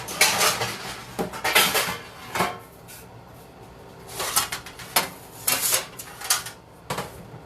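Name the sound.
pan being pulled out from under the counter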